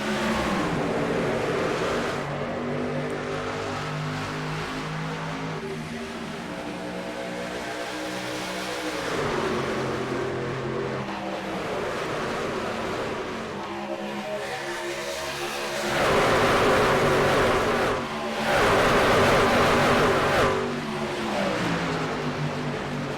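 Pickup trucks racing in a playoff event at Las Vegas Motor Speedway, a pack of engines droning and shifting pitch together as they run past, steady and loud, with surges swelling near the end.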